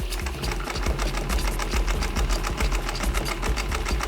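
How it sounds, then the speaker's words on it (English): A German-made double-needle industrial sewing machine stitches through leather scrap, with a steady, loud, rapid mechanical chatter and a low motor hum running continuously throughout, no voices. "I'm going to start sewing, and you can see the belts on."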